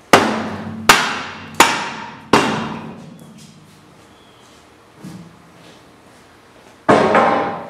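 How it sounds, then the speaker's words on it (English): Four heavy dead blow hammer blows on a Chevrolet HHR wheel rim in quick succession, each ringing briefly, then a softer knock and a final loud hit. "I have a soft blow sand hammer that's going to not bend the rim when I smash it"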